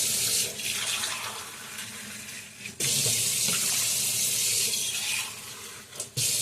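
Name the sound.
water poured into pot of amaranth greens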